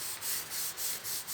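A soft-bristle brush scrubs grime off a marble headstone with a cleaning solution, making loud, close, rhythmic back-and-forth rubbing strokes, about five in quick succession.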